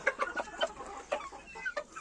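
A rooster in a farmyard flock clucks in quick, irregular bursts, close by and moderately loud, with no talking over it.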